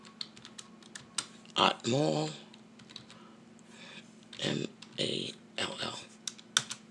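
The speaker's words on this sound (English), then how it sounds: "I'm so slow because I'm typing with one hand" Keyboard typing done with one hand, heard as uneven bursts of close clicks and key taps between and under short spoken words.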